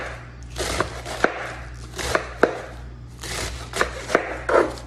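A knife slices through cabbage in a series of crisp chopping strokes, irregular in rhythm, each cut a sharp close tap against a board over a low steady hum.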